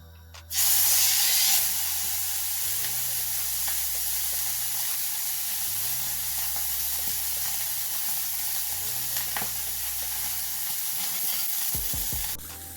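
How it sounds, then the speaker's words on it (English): A sirloin steak hits hot vegetable, peanut or canola oil in a pan and bursts into a loud, steady sizzle that holds evenly to the end, with a low background hum and no talking. "Now spread the oil out evenly and put your steak in, laying it away from you."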